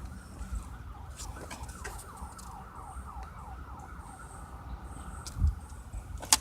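A police car siren wails in rising and falling sweeps at moderate distance over low background noise. The wail fades out midway, and a brief dull thump follows near the end.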